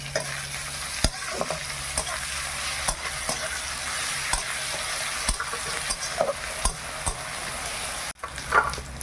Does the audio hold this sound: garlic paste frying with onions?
yes